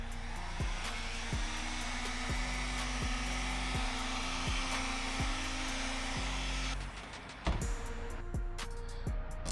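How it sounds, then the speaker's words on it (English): A heat gun blows a steady loud roar of hot air over vinyl wrap on a drift car, running without a break, with a short dip near the end and a series of faint regular ticks underneath. "watch what happens with a heat gun"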